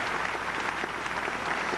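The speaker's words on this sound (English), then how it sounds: "Everybody, another huge round of applause for our ladies tonight." A pageant audience claps steadily in a dense burst of applause, fairly faint and continuous for under two seconds.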